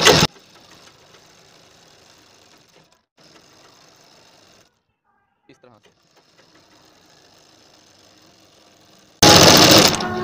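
A sewing machine stitches net fabric for a slip, running in steady mechanical bursts with a short pause midway, close by and fairly quiet, with louder noise at the start and end.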